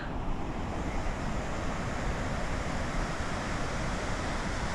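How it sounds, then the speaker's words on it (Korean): Victoria Falls on the Zimbabwe side gives a constant, dense roar of falling water, loud and unbroken, with wind buffeting the microphone. "여기가 그 짐바브웨 쪽 빅토리아 폭포 그맨 끝인 것 같아요."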